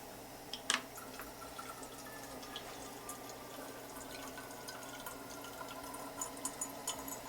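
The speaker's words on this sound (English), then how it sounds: "go ahead and push your button and be able to get the carafe filling up" Technivorm Moccamaster coffee maker brewing into its carafe: a steady, quiet trickle and drip of hot water, with scattered soft drips and a brief louder splash near the start.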